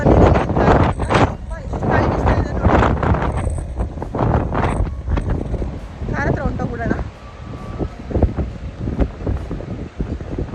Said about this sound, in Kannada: ಗಾಳಿ ಅಂತೂ ಸಖತ್ತಾಗೆ ಹೊಡಿತಾ ಇದೆ